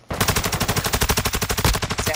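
Rapid automatic gunfire from Call of Duty: Modern Warfare II, a steady, loud burst of evenly spaced shots running without pause for about two seconds.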